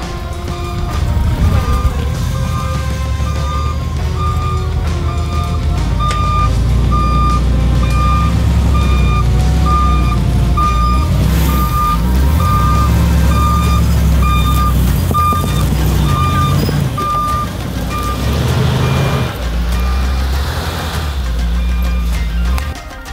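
A vehicle with tires let down drives out of a dug hole toward a road, its loud engine rumbling steadily under a repeating warning beep, with brief voices in the background.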